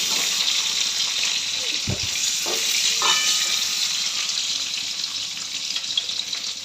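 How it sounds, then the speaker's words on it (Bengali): Food sizzles steadily in hot oil with salt and a little turmeric, frying toward golden brown, a loud, continuous crackle with a few brief stirring scrapes near the start. "একটু হালকা করে ভেজে নেব গোল্ডেন ব্রাউন করে"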